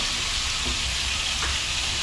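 Salmon fillet frying in a pan: a steady, dense sizzle fills the whole stretch without a break, with a few faint clinks near the end and no voices.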